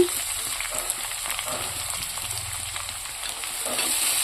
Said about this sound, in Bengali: মশলা গরম হয়ে গেছে পেঁয়াজ কুচোনো দিয়ে দিচ্ছি